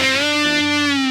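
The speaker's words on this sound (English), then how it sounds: "you can go there and back quite seamlessly" A gritty distorted electric guitar note is bent up and eased back down in one smooth motion. It is loud and close, with no talking, and lasts about a second.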